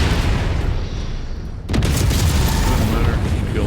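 A missile explosion in a mech combat video game, a heavy boom that cuts in sharply and rolls into dense rumbling noise over steady in-game background sound.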